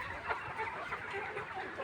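Chickens on a poultry farm, a faint dense chorus of overlapping clucks and murmurs from many birds feeding, distant and continuous.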